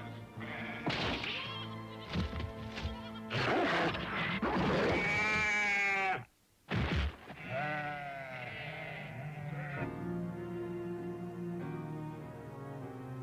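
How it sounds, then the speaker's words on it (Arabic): Sheep bleating repeatedly in a farm setting, several loud wavering calls in irregular bursts with a brief silent gap, then fainter bleats trailing off, close by. "هاجم روبو قائد الذئاب البقرة والخراف يوما بعد يوم"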